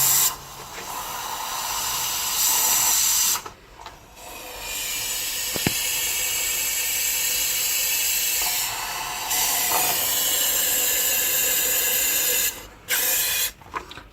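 Long, steady hiss of aerosol spraying close by into a Honda Izy lawn mower, broken by a few short pauses and a brief metallic tick near the middle.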